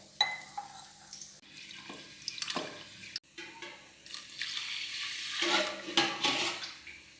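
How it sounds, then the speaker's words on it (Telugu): Rice being washed in water for mushroom biryani: intermittent sloshing, swishing and dripping as the grains are rubbed and rinsed, quiet and close, with no voices. "దీన్ని వాష్ చేసుకుందాం 2 టైమ్స్."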